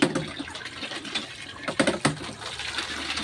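Laundry rinsed by hand in a basin of water, with uneven splashes and sloshing as cloth is swirled and lifted, close and fairly soft, coming in short bursts.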